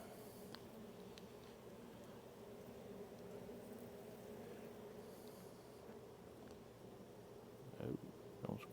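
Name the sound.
honey bees buzzing at hive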